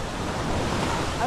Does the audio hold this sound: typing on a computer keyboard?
no